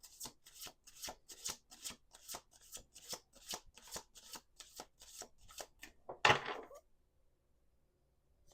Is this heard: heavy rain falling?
no